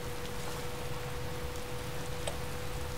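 Steady rain falls in the video game Skyrim, an even hiss of drops with a low rumble beneath, continuous and fairly faint, with no one talking.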